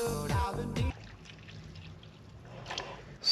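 Blue coolant poured into a Subaru Impreza WRX STI engine, a short burst of gurgling liquid at the start, then quiet trickling and faint handling noises.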